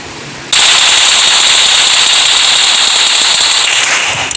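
Rapid automatic gunfire from BGMI starts abruptly and rattles on loud and continuous for several seconds, a dense metallic burst with no voices over it.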